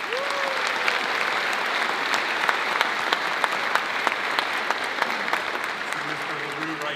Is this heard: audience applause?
yes